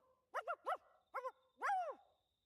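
A small fluffy dog in the video game Infinity Nikki gives four quick, clear barks, two close together, then one, then a longer drawn-out yelp, set against near silence.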